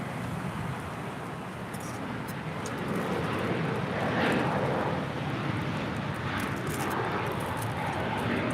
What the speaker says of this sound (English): It's a 777-300ER landing up there on 6 left on the north side.